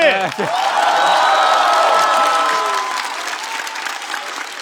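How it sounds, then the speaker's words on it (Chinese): Applause and cheering from an audience at a Chinese roast-style stage show, loud and sustained clapping filling the space after a host's cue, with shouts and whoops mixed in before slowly tapering. "再次把掌声送给"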